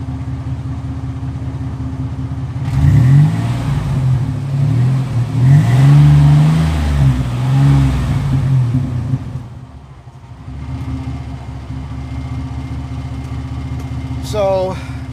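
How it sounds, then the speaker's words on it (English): A Chevy Astro 4x4 van's engine idles roughly, then revs up in several swelling pushes before settling back to a steady idle, loud and close to the microphone, with someone speaking near the end. "I'll rev it a little."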